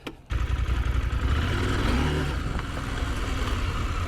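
A KTM 790 Adventure R motorcycle engine fires up and pulls away, a steady, loud mid-pitched drone rising and holding as the bike rides off, no voices.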